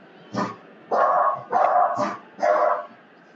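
Dogs bark at a FedEx delivery at the door, five loud, sharp barks spaced about half a second apart, close by and with no one talking.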